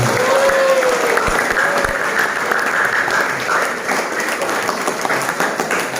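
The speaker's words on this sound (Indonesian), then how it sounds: "tepuk tangan" Audience applause at a Ramadan sermon in an Islamic boarding school in Garut, Indonesia: sustained crowd clapping, fairly loud and dense, easing slightly toward the end, with a faint voice briefly audible early on.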